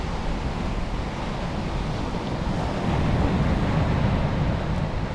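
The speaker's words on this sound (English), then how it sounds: "Beautiful beach." Steady roar of ocean surf and wind at Assateague beach, loud and continuous with heavy wind buffeting on the microphone.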